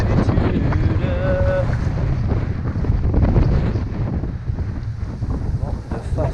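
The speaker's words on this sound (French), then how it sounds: "J'ai le vent de face" Strong headwind buffets the microphone of a cyclist riding a gravel route along the Seine near Sartrouville, a loud, continuous rumbling roar that fills the whole stretch.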